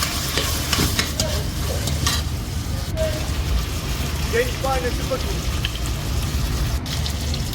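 Masala fries in oil for an ostrich meat curry, a continuous close sizzle broken by scraping stirring strokes and occasional sharper crackles throughout.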